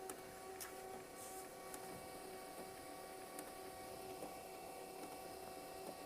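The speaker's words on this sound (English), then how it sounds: "Now that sound is loading up its toner." An HP LaserJet MFP M234dwe laser printer whirs steadily as it primes its toner, a continuous mechanical hum with faint clicks and ticks, heard alone at close range and fairly quiet.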